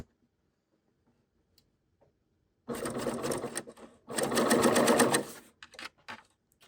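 A serger runs a 3-thread narrow cover stitch on T-shirt fabric in two close, loud bursts of rapid mechanical stitching, separated by a brief pause after a quiet start.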